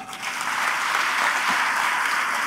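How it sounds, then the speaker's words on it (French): A church congregation at a Sunday patronal feast Mass applauds, a dense, continuous roar of many hands clapping, loud and even, swelling slightly after the first moment. "Applaudissez pour cela."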